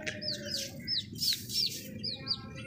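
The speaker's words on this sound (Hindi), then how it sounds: "ये प्यारी हमारी मुर्गी है अपने दो प्यारे प्यारे चूज़ों के साथ" A hen with her two small chicks, feeding together; repeated high, thin peeping chirps come in short bursts, fairly close, over a steady low background noise.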